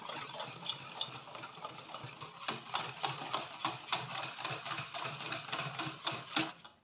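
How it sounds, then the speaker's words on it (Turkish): A starch-thickened pastry cream mixture is whisked by hand until smooth, the whisk scraping the bowl in quick, steady, rhythmic strokes that come through close and fairly clear. "şimdi pürüzsüz hale gelinceye kadar 2-3 dakika çırpacağım"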